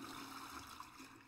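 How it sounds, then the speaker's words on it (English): Toilet flush in the game Totally Accurate Toilet Simulator, a faint, brief watery rush and trickle heard alone. "And we have flushed."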